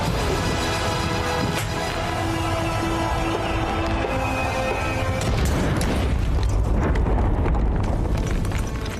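Missile strikes on an Israeli oil refinery, heavy explosions with deep continuous rumbling and crashing debris, a loud sustained roar filling the whole stretch without pause.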